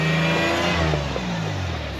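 Toyota 4Runner engine revving hard while stuck in snow, a loud close roar that climbs and then eases off slightly, with no voices over it.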